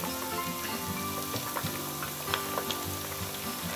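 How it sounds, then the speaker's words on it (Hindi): Chicken pieces for chicken chilli sizzle steadily in a frying pan after being turned to cook on both sides, a dense continuous crackle with scattered sharper pops, close and moderately loud, with no talking. "ये चिकन देखिए अभी हमारा फ्राई हो गया है, दोनों साइड से अच्छे से फ्राई हो गया है।"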